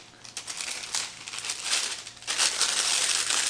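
A plastic piping bag of icing crinkles and rustles as hands handle it, close and continuous with louder crackling toward the end.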